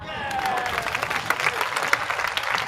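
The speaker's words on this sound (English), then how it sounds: "give them an applause." A crowd applauds in a short, dense burst of clapping that stays fairly even throughout.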